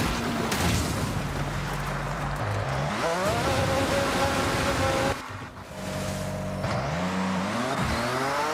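A car is driven in first person in a video game along a coastal road, its engine droning and rising through gear changes with a steady rumble beneath and a brief dip midway.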